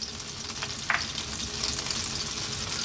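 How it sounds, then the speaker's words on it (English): Peeled, stalk-free mushrooms seasoned with salt fry in a pan just above medium heat for a full English breakfast, giving a steady close sizzle with a few sharper pops and crackles and no voices. "fry the mushrooms in here."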